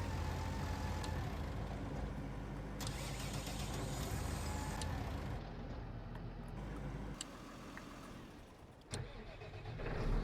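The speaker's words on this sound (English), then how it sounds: "Definitely a different engine sound." A modded truck engine in Farming Simulator 19 runs at a steady idle, with a low rumble that shifts pitch and dips briefly near the end before resuming, heard without talk.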